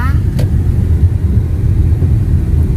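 Steady low rumble of a car driving through Chanthaburi, Thailand, toward a market, heard from inside the vehicle as a constant drone with someone talking over it.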